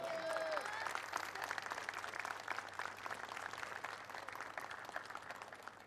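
A crowd applauds at a race-day podium ceremony in Abu Dhabi, honouring the third-place finisher; steady, dense clapping fills the whole stretch at moderate distance, with a brief tonal whistle or squeal near the start.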